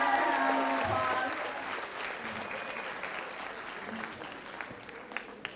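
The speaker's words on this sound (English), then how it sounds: "Just give them one more round of applause." An audience gives a round of applause at a Miller Middle School 8th grade promotion ceremony in 2018. The clapping starts loud and full, then slowly thins out, leaving a few scattered claps at the end.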